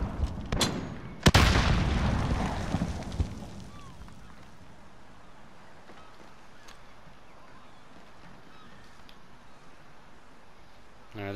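A grenade explodes in Call of Duty: Modern Warfare with one sharp, loud blast near the start. A rumbling decay follows, then quieter in-game ambience and faint scattered effects.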